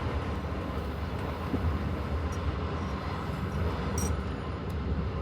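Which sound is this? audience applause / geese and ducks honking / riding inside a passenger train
riding inside a passenger train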